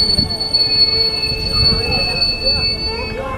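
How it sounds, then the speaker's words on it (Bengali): A passenger train squeals loudly on its wheels and brakes as it lurches to a sudden stop, with a sustained high metallic whine over a low rumble and rattle. "ট্রেনটা আবারও ঝাঁকুনি খেয়ে থেমে যায়"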